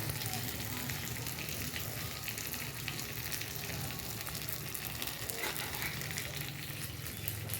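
Four eggs frying in a pan for Bengali egg kosha, a steady close sizzle with faint crackling throughout, heard beneath a person speaking.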